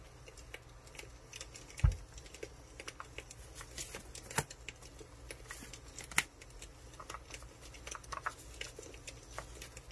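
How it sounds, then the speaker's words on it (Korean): Tarot cards being shuffled and drawn for an advice card during a love reading, faint soft card flicks, taps and slides scattered at close range in a quiet room, with a few sharper clicks and no talking. "조언 카드 한번 뽑아보겠습니다"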